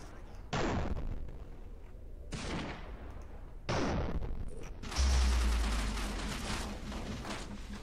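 Frag grenade blasts in the video game Murder Miners: several sharp, loud bangs a second or two apart, each with a decaying tail, ending in a longer rumbling burst.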